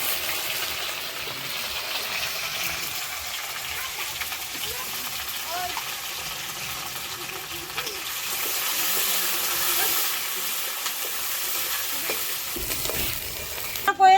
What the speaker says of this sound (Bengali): এখন দিয়ে দিচ্ছি কুচনো পেঁয়াজ, দিয়ে দিচ্ছি গোটা রসুন